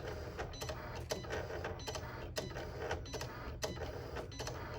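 A Cricut Explore Air 2 cutting machine runs its calibration pass with a quiet mechanical whir and a rhythmic series of clicks and ticks as the carriage moves across the mat.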